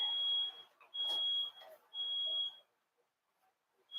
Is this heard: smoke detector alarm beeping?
yes